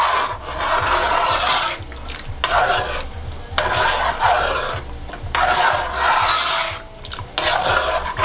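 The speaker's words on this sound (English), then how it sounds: "Stir everything back up again." Stirring boiling rice and beans in a pot on a stove: loud, close scraping and rasping strokes in repeated bursts over a bubbling background, with no talk.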